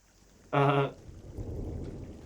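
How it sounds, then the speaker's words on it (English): Thunder rumbles low through a stormy scene in the video game Firewatch, arriving as a rolling build after a brief bright tonal sound, with steady rain-like hiss beneath. "heard some thunder"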